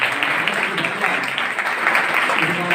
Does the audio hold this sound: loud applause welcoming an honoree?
yes